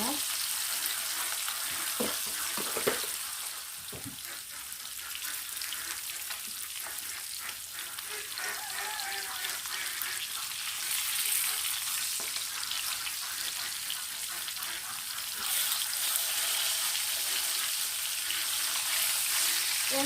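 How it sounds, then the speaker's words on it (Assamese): Fish sizzling steadily as it shallow-fries in a pan with a little salt, a continuous close crackle and hiss running throughout with occasional stirring clinks. "তাৰপিছত মাছ ফ্ৰাই কৰা হৈ গৈছে"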